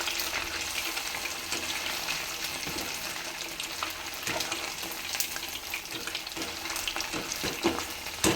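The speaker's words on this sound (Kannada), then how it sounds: "ಇವಾಗ ಎಣ್ಣೆಯಲ್ಲಿ ಹಾಕೋಣ." Gobi manchurian pieces fry in hot oil with a steady, dense sizzle and occasional crackles and stirring clatter, close and continuous with no talking.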